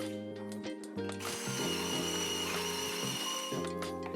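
A 24-volt battery-powered espresso coffee grinder runs steadily, a loud continuous whirring motor with shifting pitch steps as it grinds, heard close and alone.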